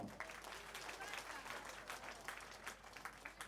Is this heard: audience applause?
yes